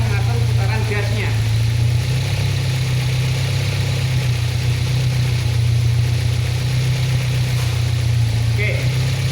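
A Toyota Corona EFI engine mounted on an engine stand idles at about 750 rpm, a loud, steady low hum and rumble that holds even throughout, with slight shifts in pitch.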